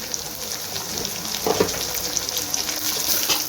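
Onion frying in a pan with a steady bright sizzle as a green ginger-garlic-chili-coriander paste is added for green chicken, bringing a brief louder splutter and stirring before the hiss settles back.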